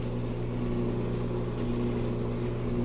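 A wood lathe runs steadily in a workshop while score lines are laid out on the turning stock, a constant low motor hum with a faint whirring tone, alone without talk.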